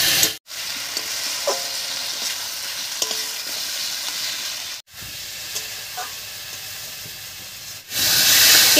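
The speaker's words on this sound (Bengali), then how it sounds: "পেঁপে আর আলুর সঙ্গে মশলা খুব ভালো করে কষে গেছে" Spices sizzling and being stirred with papaya, potato and tomato in a pan, a steady close frying hiss with occasional scraping stir sounds, briefly broken by short gaps.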